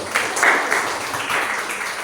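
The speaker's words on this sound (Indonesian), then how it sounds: "Oke, wow, tepuk tangan buat Rizky" Brief classroom applause for a student after a maths answer, a short burst of many hands clapping close by with little talk over it.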